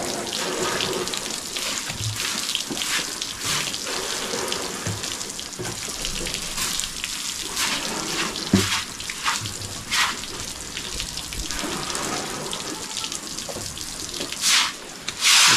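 Water runs and splashes steadily while a five-day-old calf is being bathed outdoors, a continuous close pouring and spattering with small irregular knocks and bumps throughout.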